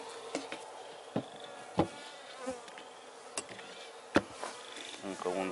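Honeybees buzz around an open beehive during a queen-cell check, a steady close insect drone broken by several sharp clicks and knocks from the hive, with no talking.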